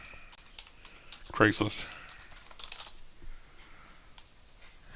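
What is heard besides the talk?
typing on a computer keyboard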